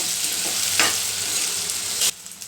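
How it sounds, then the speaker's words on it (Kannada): Curry leaf rice ingredients fry in a pan with garlic and cumin, giving a close continuous sizzle broken by a few sharp stirring scrapes. "ಇದೆಲ್ಲ ಚೆನ್ನಾಗಿ ಫ್ರೈ ಆಗಬೇಕು"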